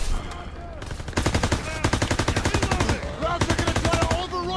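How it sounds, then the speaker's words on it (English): Rapid automatic gunfire in Call of Duty WWII, loud and close, in repeated fast bursts of machine-gun fire, with shouted voices over the shooting. "Suppressive fire! Suppressive fire. Keep firing!"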